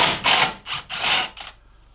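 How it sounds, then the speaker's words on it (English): Ratchet undoing bolts on a truck body lift: a few loud, close bursts of rapid clicking, with a short pause between them, fading out near the end. "let's just start undoing screws. I mean bolts"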